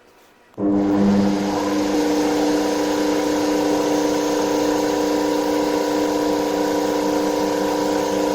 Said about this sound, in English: the motor is turned on